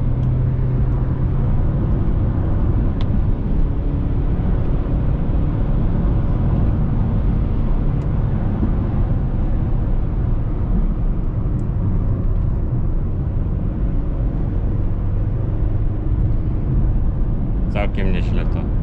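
A 2006 Subaru Legacy IV's 2.0 boxer engine rated at 165 hp drones loudly and steadily from inside the car, a dense sustained roar lasting the whole stretch.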